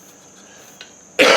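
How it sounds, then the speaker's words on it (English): One loud, close cough caused by allergies bursts out at the very end, after a near-silent stretch with only a faint earlier throat sound. "And this cough is related to these freaking allergies."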